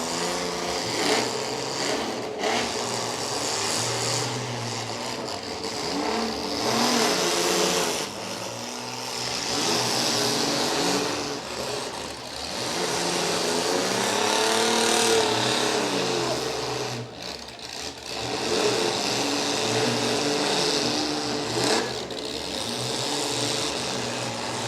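Several demolition derby cars at a county fair derby keep their engines running in a continuous, loud, buzzing roar that rises and dips as the drivers maneuver.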